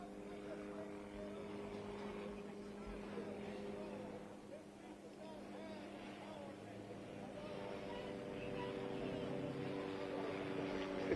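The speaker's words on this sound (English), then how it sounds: "There's a police helicopter flying overhead." A police helicopter flies overhead, a steady low mechanical drone with tonal hum throughout, swelling slightly near the end, under faint voices.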